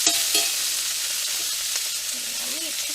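Chopped onion and meat sizzle in oil in a pan while chili is being cooked, a steady close hiss with faint stirring scrapes throughout.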